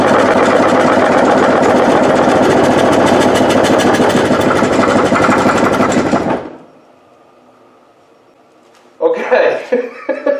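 A wood lathe spins a 16-inch bowl with a loud, rough whir that pulses rhythmically for about six seconds, then cuts to near silence before a short burst of voices and laughter.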